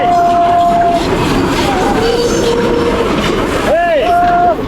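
A train rumbles loudly through a tunnel, its horn sounding in long tones near the start and again with a wavering blast toward the end over a constant roar of wheels.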